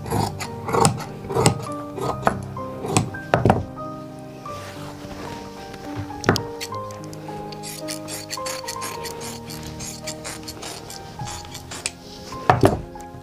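Fabric being cut for the belt of a Patiala salwar, with repeated sharp scissor snips and rubbing of cloth, close and fairly loud, in uneven bursts with short pauses, and no speech.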